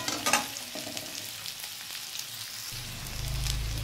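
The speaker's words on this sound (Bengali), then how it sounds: "হালকা করে একটু ভেজে নেব। গ্যাসটা কিন্তু আমি বাড়িয়ে দিয়েছি," Steady sizzle of food frying lightly in a pan over a gas flame that has been turned up, while cooking a rohu fish curry with kohlrabi. The hiss runs continuously at moderate level, with a deeper roar swelling near the end and no talking.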